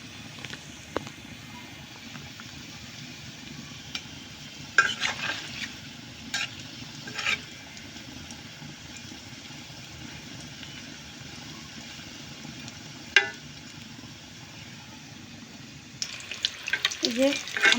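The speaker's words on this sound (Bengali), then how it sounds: "এই যে আমার ভাজা হয়ে গেছে প্রায়" Food deep frying in hot oil at home, a steady soft sizzle and bubbling held close, broken by occasional clinks and stirring knocks from a utensil, with no talking.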